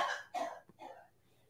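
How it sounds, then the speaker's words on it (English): A woman coughs several times in quick succession, three harsh bursts heard from a short distance in a quiet indoor room, fading toward the end. "Someone's having a coughing up a lung over there"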